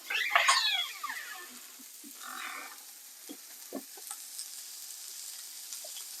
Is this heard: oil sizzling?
yes